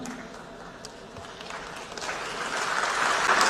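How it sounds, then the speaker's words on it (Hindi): Crowd applause swells gradually from a soft patter into fuller, sustained clapping, heard alone without speech on top. "आप गया था इसकी ताली बजा रहे हो"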